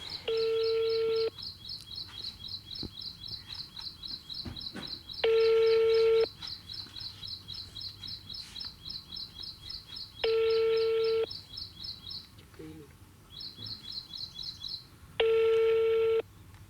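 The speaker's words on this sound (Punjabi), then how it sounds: "ਉਹਨਾਂ ਨੂੰ ਫੋਨ ਲਗਾ ਕੇ ਉਹਨਾਂ ਦਾ ਪੱਖ ਜਾਣਨ ਦੇ ਲਈ" An outgoing phone call to a contact, with a rapid chirping ringback pattern repeating steadily while a long steady tone sounds four times at regular intervals, all close and clear with no talk.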